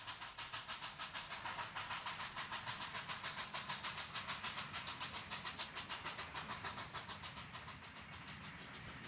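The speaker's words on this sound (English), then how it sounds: "Here it runs by with another Mail Express train." A Southern Pacific mail express train rolls past on the peninsula line, a steady rhythmic clatter of wheels over rail joints with a broad rushing roar, close and sustained before easing slightly at the end.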